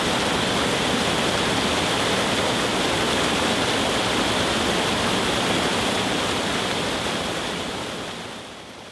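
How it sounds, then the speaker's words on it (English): Water rushes steadily along an irrigation canal beside rice fields, a loud, unbroken hiss that holds throughout and tapers slightly at the very end. "there is a canal with flowing water in it"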